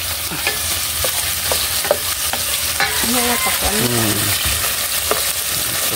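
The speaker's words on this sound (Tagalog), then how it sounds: "At yung kamatis Lynette, pakihalo na naman." Sardines and tomatoes frying in a pan and being stirred, a loud continuous sizzle with repeated scraping strokes of a utensil against the pan, close up.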